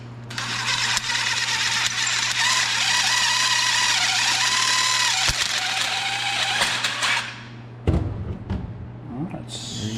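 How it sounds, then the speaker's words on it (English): Loud, steady grinding whir from a power tool deburring the inside of cut-down Protaper EVO motocross handlebars, running continuously for about seven seconds before cutting off into clattering handling noises and brief voices. "Now we just deburr the inside."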